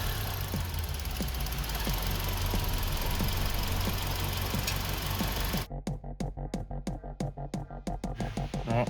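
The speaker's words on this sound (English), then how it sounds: "good way to warm the engine up" A Hyundai Getz engine runs steadily to warm up, a loud continuous hum for most of the stretch, then breaks into a rapid pulsing, rhythmic knocking toward the end, with no talking.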